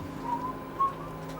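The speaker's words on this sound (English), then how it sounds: "That was the theme tune from Dixon of Dock Green" A short whistled snatch of the Dixon of Dock Green theme tune, a few clear sustained notes from a single whistler, fairly quiet and alone with no talk.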